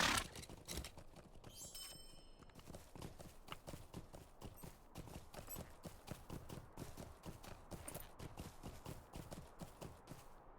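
Horse hooves clip-clop at a steady trot in the video game LOTRO, a fast even rhythm that continues throughout at a moderate, fairly close level.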